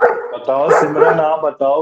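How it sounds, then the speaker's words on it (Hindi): A neighbour's dog barks and yips in short bursts, mixed in with and partly masked by close voices talking during an online class. "कुत्ता भौंक रहा है किसी का।"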